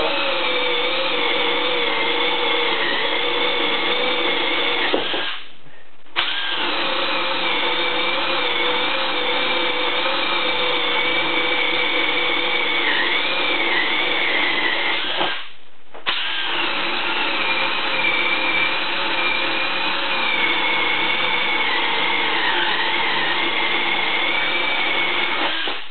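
A Milwaukee 2601 compact cordless drill with a 1.5 amp-hour battery whines steadily and loudly at close range cutting cedar wood, pausing briefly twice before grinding on.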